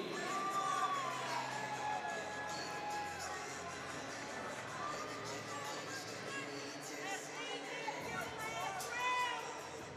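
Crowd of supporters at a boxing match, a dense roar of chatter and shouts filling the hall steadily, with scattered cheers rising above the babble.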